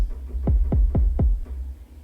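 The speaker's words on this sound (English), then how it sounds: "So I'm going to go ahead and start with the kick drum. So it sounds like this." Four deep kick drum hits from the Native Instruments Faded Reels pack, played in Ableton Live, thump in an even rhythm, soft and boomy with a low hum underneath and no voices.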